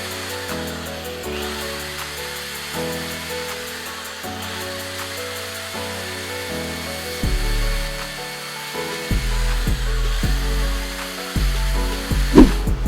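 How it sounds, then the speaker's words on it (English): A Dremel rotary tool grinds at denim jeans, a steady high whine with pitch shifts as pressure changes, running loud and continuous with brief rises and dips near the end. "continue to slowly grind away at it"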